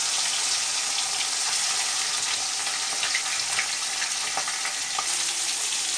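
Fish heads rubbed with salt and turmeric fry in mustard oil in a kadai, giving a dense, continuous close-up sizzle with scattered small pops and no voices.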